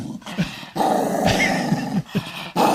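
A dog growls in low, rumbling stretches broken by brief pauses, close and fairly loud with no talk over it.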